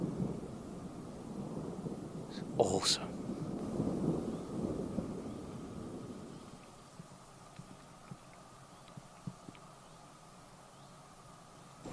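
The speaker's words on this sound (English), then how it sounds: "You can hear it rumbling." Distant thunder before a storm, a low rolling rumble swelling over several seconds and then fading into quiet outdoor ambience, with a brief spoken remark partway through.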